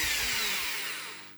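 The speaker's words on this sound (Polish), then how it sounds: "Wiertarka została włączona do gniazdka." An electric drill plugged into a power inverter spins with a bright, hissing whir that winds down and fades over a second or so, heard alone.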